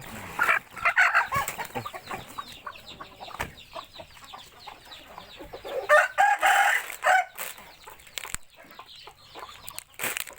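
Chickens on a farm cluck, and a rooster crows twice in loud, clear bursts. Softer clucking and scratching noises fill the gaps between the crows.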